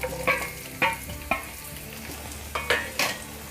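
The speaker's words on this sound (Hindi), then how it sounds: "इसे हम प्याज को जब तक फ्राई करेंगे, जब तक इसका कलर चेंज नहीं हो जाता" Chopped onions frying in hot oil with spices and a pinch of asafoetida for a cauliflower-and-peas curry, a soft continuous sizzle broken by several sharp scraping stirs of a spoon in the pan.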